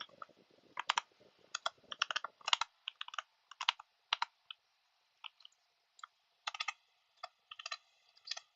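Typing on a computer keyboard during a Spanish-language data science lesson, irregular bursts of close, crisp key clicks with short pauses between, no talking.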